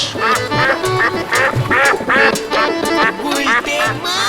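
A duck quacks loudly and close by, giving a quick run of about nine harsh, nasal quacks at a fairly steady pace, with no other sound competing.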